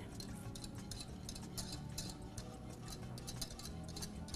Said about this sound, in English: basically I'm gonna whisk that in